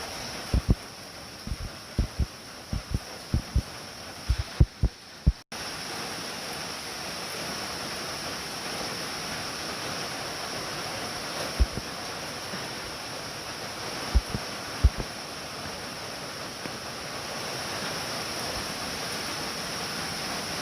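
Steady rain hisses outside a mountain trail shelter, heard from within during a storm. Several sharp knocks or drips sound nearby in the first few seconds, then the downpour settles into an even, continuous wash with occasional soft taps.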